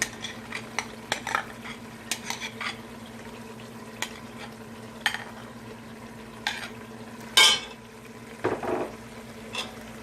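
Meat for nihari browns in butter in a pot under a low steady sizzle, while a spoon stirs with frequent scrapes and clinks and one sharper knock.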